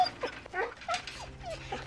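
Dog whimpering in The Walking Dead video game, a run of short high whines and yelps, soft and repeated over a low background hum.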